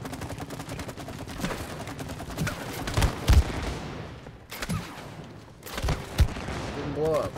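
Rocket launcher fire in the video game It Takes Two, with several loud blasts and booms scattered among dense game noise and chatter, voices talking throughout.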